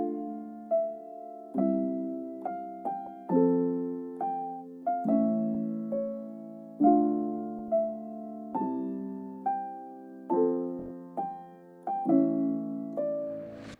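Soft piano pattern equalised in FL Studio, repeating mellow chords with a few lighter upper notes, each decaying before the next strike in a slow, steady rhythm, quiet and alone.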